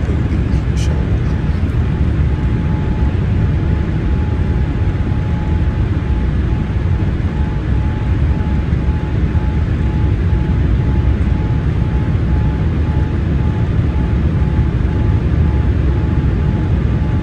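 Steady, loud cabin roar inside a Boeing 787-9 airliner on final approach into Dubai, a constant broadband rush with a faint steady tone running throughout.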